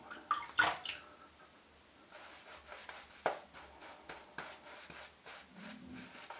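Water splashes and rubs at a sink during a traditional wet shave with a razor, faint and intermittent, in short bursts separated by quiet gaps.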